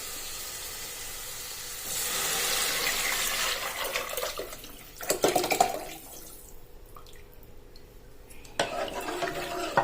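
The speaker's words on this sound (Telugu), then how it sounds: "ఇప్పుడు చారు పోసుకోవాలండి." Tamarind broth poured into a pan of fish pulusu, a sustained rushing pour for several seconds followed by sloshing, stirring and clattering in the pan, close and fairly loud.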